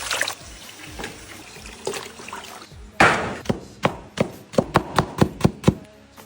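Eels being rinsed again in water in a rural kitchen, with splashing and sloshing, then a run of sharp, evenly spaced knocks and splashes growing louder toward the end, close by with no talk.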